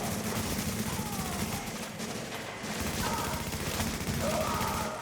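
Video game gunfire crackles in rapid bursts throughout, fairly faint and steady, like overlapping volleys from several shooters at a distance.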